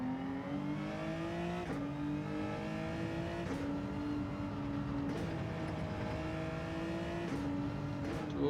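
Genesis GR3 race car engine in Gran Turismo 7 on the Lago Maggiore circuit, a steady droning whine that climbs in pitch through each gear, then drops sharply at upshifts about every 1.7 seconds, continuous and alone.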